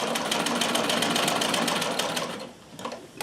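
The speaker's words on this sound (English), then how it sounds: "So I'm going to change the length to longer length, and let's see." A Riccar 570 sewing machine runs a longer chain stitch with a steady, fast mechanical whirring and rapid needle tapping close to the microphone, easing off near the end before a few final clicks.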